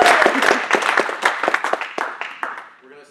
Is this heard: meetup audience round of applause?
yes